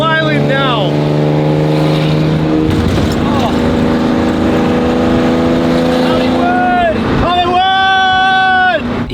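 A modified car in Japan's illegal car scene, its engine running loudly with rising revs and a sustained high drone, blipping and climbing again near the end, with a voice and crowd chatter underneath.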